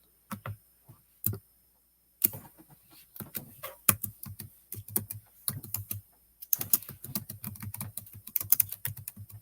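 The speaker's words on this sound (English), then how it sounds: "I'm typing like crap." Quiet keystrokes on a computer keyboard tap away in irregular bursts, with short pauses between clusters of rapid clicks, close by and soft.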